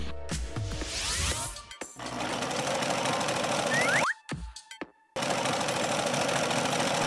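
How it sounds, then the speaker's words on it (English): A sewing machine in a cartoon runs in fast, rattling bursts, loud and mechanical, broken by short silent gaps between runs. "He'd use a sewing machine."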